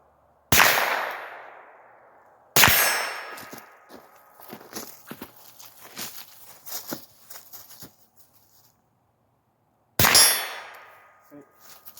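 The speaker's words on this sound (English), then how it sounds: "let's do a little bit of shooting" Rifle shots fired at night at a steel target, two sharp loud cracks with ringing decay early and a third near the end, separated by scattered rustling and handling noises.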